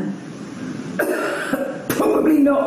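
A storyteller coughs in character during a read-aloud children's story, a couple of short close coughs and throat-clearing bursts mixed with the narrating voice.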